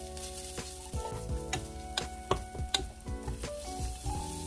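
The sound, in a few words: stirring pepper powder into Korean soft-tofu stew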